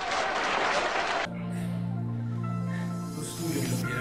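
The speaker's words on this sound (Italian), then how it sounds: "92 minuti di applausi!" A small group indoors gives about a second of dense, close clapping during a board game session. The clapping cuts off sharply, and a steady voiced sound follows.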